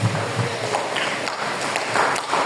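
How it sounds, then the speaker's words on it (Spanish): A church congregation claps together during a sermon, a steady wash of many hands with sharper individual claps, moderately loud and close, with no voices over it. "Si esa expresión es para ti, dale un fuerte aplauso al Señor."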